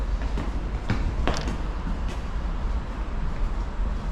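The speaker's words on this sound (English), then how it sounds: "It will be very exciting to travel in one of these local trains." An old Soviet-style local train in Belarus rumbles steadily at a station, with a few sharp metallic clanks and creaks over the continuous low drone.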